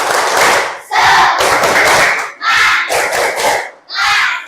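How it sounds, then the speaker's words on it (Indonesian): A class of children claps in bursts and shouts together in a rhythmic spirit cheer, loud and near, in four or five chanted phrases separated by short pauses. "tepuk semangat."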